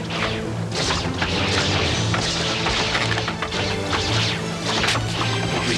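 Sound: arrows fired by archers in animated show

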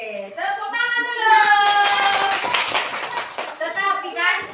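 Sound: children clapping in a classroom

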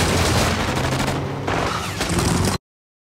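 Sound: submachine gun gunfire sound effect in a movie

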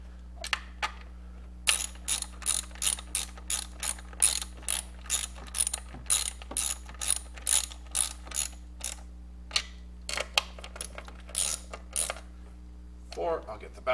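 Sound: ratchet snugging engine bolts on LS6 valve spring job

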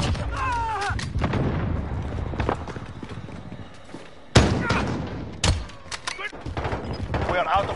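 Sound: gunfire in video game Call of Duty Warzone

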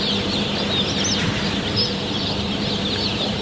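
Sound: baby chicks peeping

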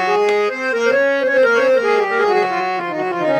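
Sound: DMS-18P harmonium played with grille closed

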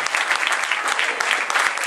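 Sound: audience applause for young actors at a theatre evening

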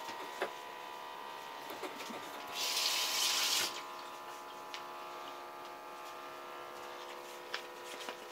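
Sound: tap water running while washing a cup

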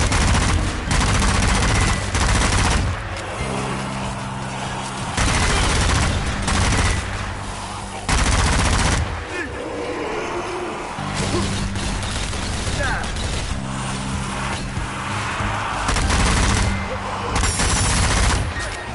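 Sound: gunfire from a video game, Zombie Army 4: Dead War

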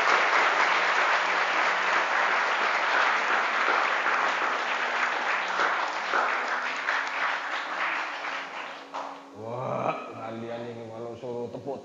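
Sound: applause from audience

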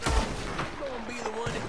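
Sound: gunshots in the video game Red Dead Online

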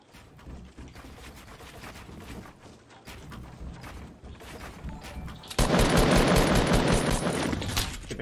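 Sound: gunfire shooting at the player in Fortnite video game

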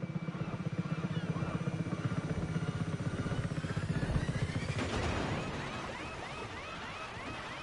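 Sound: helicopter arriving in video game Just Cause 3

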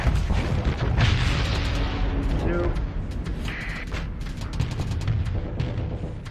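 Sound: weapon fire and explosion in Starsector video game

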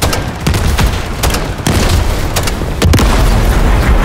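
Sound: helicopter shot down and exploding, Call of Duty Modern Warfare 3 video game

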